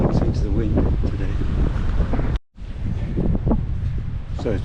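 Gusty wind buffets the microphone on a narrow riverside path at the top of Wharfedale in the Yorkshire Dales, a steady loud roar with a brief drop-out midway before the blustering resumes.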